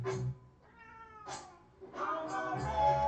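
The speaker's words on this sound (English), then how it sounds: "You can probably hear my cat yelling." Unhappy house cat yelling and meowing nearby in several repeated insistent calls, a longer drawn-out yowl at the end, with no talk over it.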